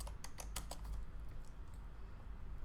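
A computer keyboard being typed on, a quick burst of several close, light clicks in the first second, then quiet room hiss.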